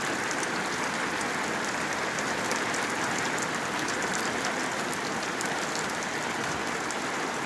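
A heavy downpour falls in Güzelyurt, Cyprus, a dense, unbroken roar of raindrops striking surfaces, loud and uniform throughout with no speech.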